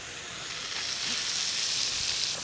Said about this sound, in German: Und wenn ich es umrühre, verteilt sich es dann gleich in der Pfanne.